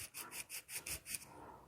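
Sandpaper held in the palm and twisted against the edges of a piece in short, repeated rasping strokes, about seven regular rubs in under two seconds, close and fairly quiet with no talking.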